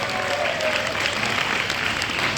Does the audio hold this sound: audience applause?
yes